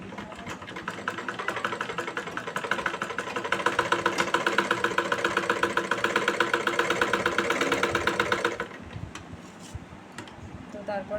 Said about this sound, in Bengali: কাপড়টি নিলাম দেখব মেশিনে সুতো সেলাইটি ঠিকঠাক হচ্ছে কি না